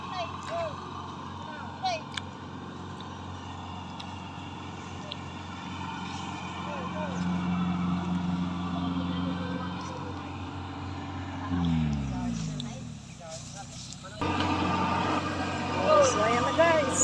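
A farm machine engine works in a rice field, a moderate mechanical drone that winds down partway and then picks up again, with a person talking intermittently over it.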